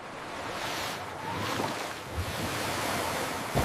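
Ocean surf rolls in a steady, loud wash of waves with wind buffeting the microphone, continuous throughout with no voices.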